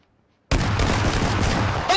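Sudden close gunfire in PlayerUnknown's Battlegrounds, a loud sustained burst erupting after a short silence and continuing to the end.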